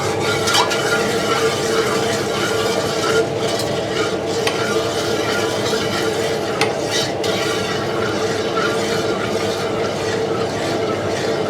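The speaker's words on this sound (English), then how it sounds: "we start to fry all the ingredients first" Oxtail noodle soup ingredients frying in a little cooking oil over medium gas heat, a steady, dense sizzle with stirring scrapes that runs the whole time, close and fairly loud, with no talking.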